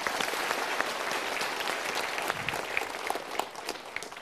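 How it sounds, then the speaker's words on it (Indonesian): A room full of people applauding, dense steady clapping that holds at an even level for several seconds. "kita berikan tepuk tangan dulu."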